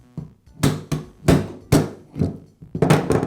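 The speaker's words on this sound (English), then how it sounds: "To do that, I'll use a rubber mallet." A rubber mallet taps an armature out of a Makita plunge router's bearing, giving about eight sharp, close knocks in an uneven rhythm with short gaps between blows.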